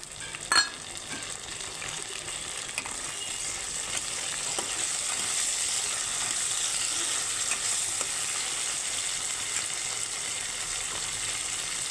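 Chopped tomato hits hot oil with onion for an egg curry, and a steady broadband sizzle of frying holds for the whole stretch after a brief clatter at the start, close and continuous with no talking.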